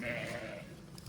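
A sheep bleats loudly and close by, a drawn-out wavering cry that fades toward the end.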